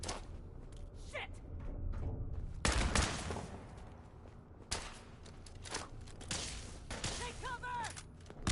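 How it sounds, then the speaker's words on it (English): Gunfire in Fallout 4 during a chaotic firefight, with several sharp bursts and shots, some loud and near, mixed with thumps and footsteps while voices shout. "Opening fire!"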